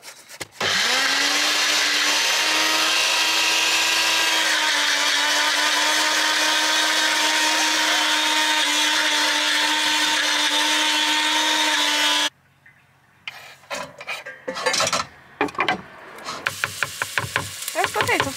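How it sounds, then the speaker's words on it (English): A blender grinds potatoes in a steady, loud electric whir for about twelve seconds, then cuts off abruptly, leaving clatter and handling noises. "blender."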